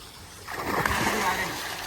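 A person jumps into a swimming pool and makes one brief splash in the middle, with splattering water afterward and faint voices nearby.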